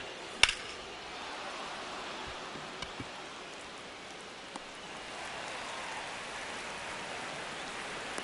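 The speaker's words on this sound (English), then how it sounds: "So we're getting lots of rain here." Steady rain falls outside as a close, even hiss of drops on surfaces, continuous and unbroken, with a few brief clicks and taps standing out early on and no voices.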